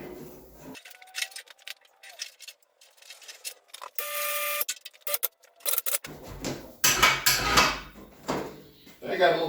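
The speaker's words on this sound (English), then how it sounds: "lift this hood." The hood of a Ford 8N tractor being lifted under a ceiling hoist in a workshop: irregular metallic clanks, scrapes and rattles close by, broken by short silent gaps.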